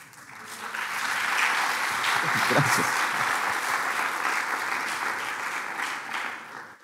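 An audience applauding at a live talk show, a dense wash of clapping that swells quickly, holds steady for several seconds and then begins to fade.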